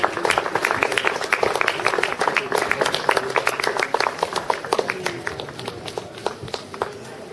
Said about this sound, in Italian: farei un caro applauso a questi ragazzi